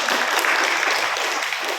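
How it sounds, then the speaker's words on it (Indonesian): Audience applauding at a Halal bi Halal village gathering in Wonosobo, a dense, steady burst of clapping throughout the short moment. "Tepuk tangan untuk semuanya."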